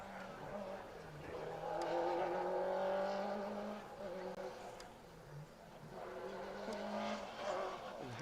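A Citroen Saxo rally car passes on an asphalt stage of Rally Ceredigion, its engine rising, revving and fading with tyre squeal, then building again, heard from the roadside under commentary.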